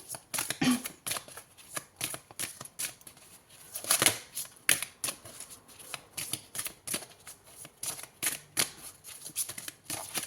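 Oracle cards are shuffled by hand during a horoscope card reading: a continuous run of soft, rapid riffling and slapping card sounds, fairly close and steady for around ten seconds, with no speech.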